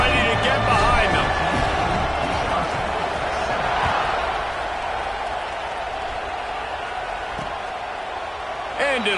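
A Wisconsin football stadium crowd roars steadily at kickoff, a dense, sustained wash of cheering and applause with a commentator speaking over it.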